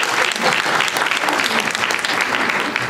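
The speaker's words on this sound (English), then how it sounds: "Would you all please help join me in giving our panel a round of applause?" Audience at a public criminal justice meeting in Washington, D.C. applauds a panel, loud, close and continuous clapping at an even level throughout, with no voices over it.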